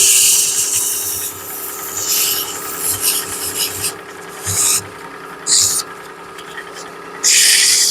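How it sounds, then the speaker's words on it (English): Light hand-sanding of wood with 120-grit sandpaper, several bursts of close, raspy rubbing strokes separated by short pauses, with a voice talking faintly underneath. "I'm going to pick me up a piece of probably 120 sandpaper."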